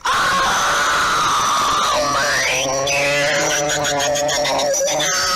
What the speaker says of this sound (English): screaming children is, of course, a classic staple of that game